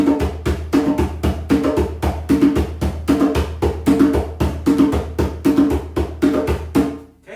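A hand drum plays the cascara 'rest, boom, boom' pattern of deep thumps, a pause followed by two quick beats, looping steadily and close up without any voices.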